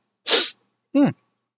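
A man sneezes close to the microphone, a sharp breathy burst followed by a short voiced exhale, then silence.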